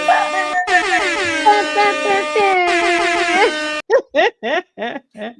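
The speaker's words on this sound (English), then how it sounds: "Where my air horn went?" An air horn blares in long, loud, wavering blasts for nearly four seconds, then fires a quick run of short staccato honks.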